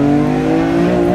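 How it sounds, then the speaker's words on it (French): BMW M3 E46 with its inline six-cylinder engine accelerating, a loud, steady, rising engine note with strong harmonic tones carrying through the whole short moment, no talk over it. "bienvenue à bord de la BMW M3 E46. Bon, apparemment ça marche bien ce petit 6 cylindres en ligne"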